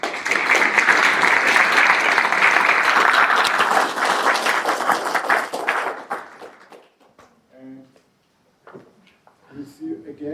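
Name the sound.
audience applause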